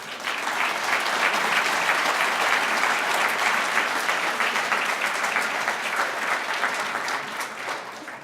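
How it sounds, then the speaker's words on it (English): A roomful of dinner guests applauds standing platinum sponsors at a student of the year dinner in Hemet and San Jacinto, dense sustained clapping holding strong for several seconds before easing slightly at the end. "please stand up and we'll give you a big round of applause"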